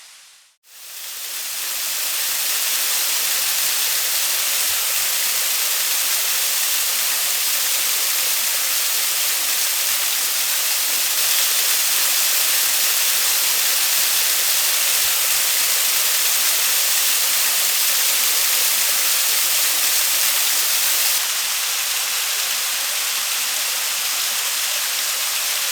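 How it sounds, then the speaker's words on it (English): A waterfall heard on a bush outing, a steady, loud broadband roar of falling water that rises quickly and holds unbroken, close and alone with no voices. "we're getting close to the waterfall. I can hear it."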